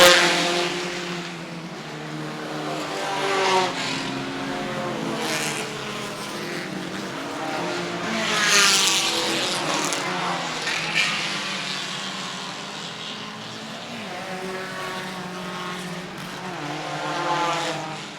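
Sports race cars under 2.0 litres, among them a Saab Sonnet, race past at a vintage road course event, engines rising and fading in repeated waves of fly-bys heard from trackside at moderate distance.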